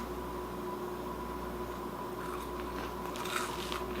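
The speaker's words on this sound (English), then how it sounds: "Hear the crispiness?" A bite into a salted, air-fried green tomato gives a faint crunch near the end, heard over a low steady room hum.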